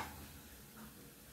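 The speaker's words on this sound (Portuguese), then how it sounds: "Já estamos fritando as coxinhas aqui, ó." Coxinhas, breaded Brazilian savoury snacks of about 60 g, fry in hot oil with a soft, steady sizzle and faint bubbling at low, close volume, with no voices over it.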